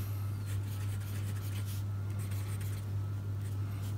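A broad-nib fountain pen scratches across paper in soft, intermittent strokes, faint and close over a steady low electrical hum, with no voices.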